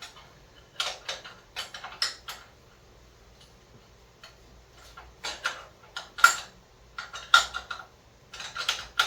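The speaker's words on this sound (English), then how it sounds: "So now we're going to tighten the bolts, the Powerpack bolts." A 9/16 wrench tightens the bolts on a 212 Powerpack engine in a go-kart build, giving quick bursts of light metallic ratchet clicks separated by pauses, close and fairly quiet, with no talk.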